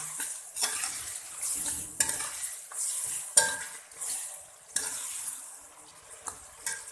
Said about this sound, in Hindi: और इसको मिक्स कर लेंगे।